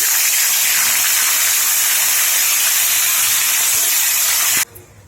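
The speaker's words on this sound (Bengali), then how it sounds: "কড়াইয়ে সরষের তেল ভালো করে গরম করে নিয়েছি। এবারে মাছগুলো সব দিয়ে দেবো" Rohu fish sizzle loudly in hot mustard oil in a kadai, a dense steady frying hiss close up that cuts off abruptly near the end, with no voices.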